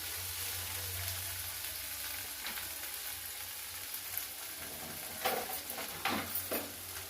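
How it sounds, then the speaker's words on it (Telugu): Okra sizzles steadily in hot oil in a pan, with a few scraping stirs toward the end, close and fairly quiet with no voices. "దీంట్లో ఈ నూనెలోకే బెండకాయలు బాగా వేపుకోవాలి, మెత్తగా కావాలి బెండకాయలు."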